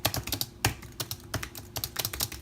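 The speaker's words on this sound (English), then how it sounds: "that same amount of clickiness" Fingers type quickly on an Apple MacBook Pro keyboard, producing close, crisp clicks in uneven bursts with occasional louder key strikes.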